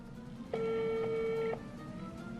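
One steady ringback tone, about a second long, sounds through a phone on loudspeaker during an outgoing call, faint against a quiet room with no talking.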